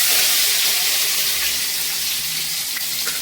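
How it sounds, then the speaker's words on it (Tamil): Garlic sizzling in hot oil with fennel seeds, cooked on low heat for a jackfruit kootu: a steady, close, bright frying hiss that stays loud throughout with a few soft pops. "சோம்பு நல்லா பொரிஞ்சிச்சு. இப்போ நம்ம பூண்டு போட்டுக்கலாம்."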